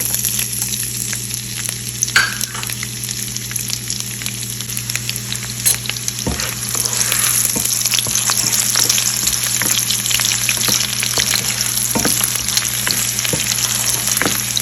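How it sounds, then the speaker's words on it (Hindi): Ginger and garlic sizzle steadily in a hot pan of oil with bay leaves and whole cloves, the dense frying hiss growing slightly louder partway through, with occasional stirring clicks and no talk. "और साथ में हम इसमें डाल देंगे"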